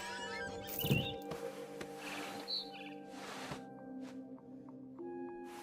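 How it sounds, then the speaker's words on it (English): A barn swallow chirping in the game What Remains of Edith Finch, with bright, quick tweets scattered over a quiet ambient background, a few louder bursts early on and softer calls later. "chirping outside my window. It was a barn swallow going back to her nest"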